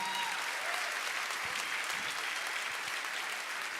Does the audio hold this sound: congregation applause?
yes